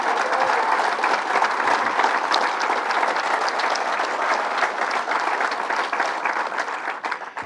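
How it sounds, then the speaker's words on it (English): A crowd gives a round of applause for Paychecks employees at a gathering in Rochester, sustained loud clapping with some scattered cheers, no speech over it. "let's give the Paychecks employees a round of applause"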